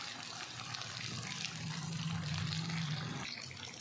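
Water is poured into a cooking pot of mutton karahi with tomatoes, a steady, fairly loud rushing splash that runs for a few seconds with no talk.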